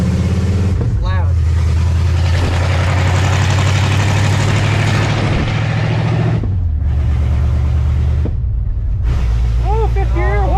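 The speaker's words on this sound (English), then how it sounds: "Holy crap, open headers. It's loud." Loud, close engine of a 1986 Ford F150 running open headers, a deep throaty rumble that holds steady, then dips and swells through gear changes, with a voice briefly heard.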